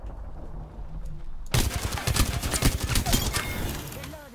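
Enemy gunfire in the shooter game Apex Legends erupts suddenly after a quieter stretch, a dense run of loud rapid shots cracking close by, with a voice briefly talking alongside.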